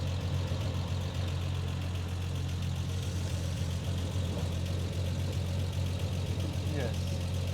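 A car with an intermittent overdrive fault drives in fourth gear without overdrive, giving a steady low engine drone throughout with faint road and cabin noise.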